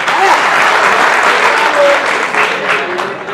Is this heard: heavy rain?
no